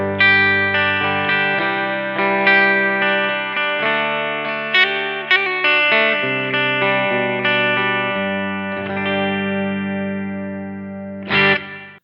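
Clean electric guitar tone from a Blackstar Studio 10 6L6 amp, captured through a Two Notes Torpedo Captor X, plays sustained chords and single notes steadily for about twelve seconds, alone and up close.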